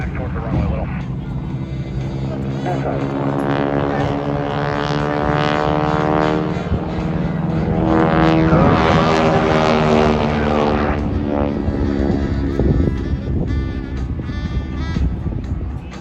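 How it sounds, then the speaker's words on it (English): A loud, steady warbird propeller engine drones from inside the cockpit at an airshow, with a rising and falling hum and occasional faint voices beneath. "Now we're going to sneak a listen inside the cockpit."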